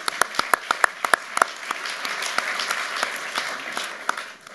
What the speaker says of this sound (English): he needs or deserves a round of applause